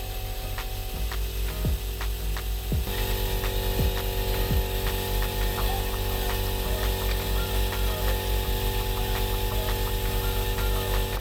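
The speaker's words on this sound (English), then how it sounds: "It is now time to pump the DCT fluid into the PDK." A hand pump pushes DCT fluid into the PDK transmission of a Porsche 718 during a service. It gives a run of regular mechanical clicks and ratcheting strokes close by over a steady low hum, with no talking.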